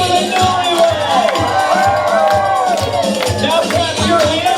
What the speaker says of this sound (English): Put your hands in the air and let us scream for the newlyweds